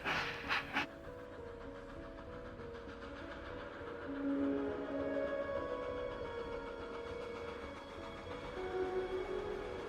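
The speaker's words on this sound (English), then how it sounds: "Wait, Maeve, I think that's our train." A passenger train rumbles steadily past, its heavy roar layered with squealing metallic whines from the wheels, staying loud and close throughout.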